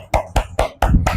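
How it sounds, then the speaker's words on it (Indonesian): Five sharp claps ring out in quick succession from a classroom group applauding a student team, close and crisp with short gaps between them. "Kita kasih tepuk tangan dulu buat kelompoknya Ayu dan Natasha"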